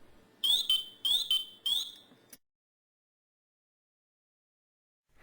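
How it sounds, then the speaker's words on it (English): An MSA Firehawk SCBA PASS device sounds three rising chirping pre-alarm tones in quick succession, loud and shrill, followed by silence. "Listen for pass pre-alarm tones."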